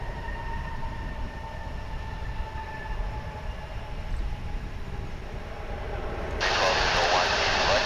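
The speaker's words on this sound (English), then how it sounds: "That was American Flight 2326 coming in from Des Moines, Iowa." An American Airlines jet arriving from Des Moines at Dallas/Fort Worth International Airport gives a steady distant engine roar that swells into a louder, broadband rush near the end.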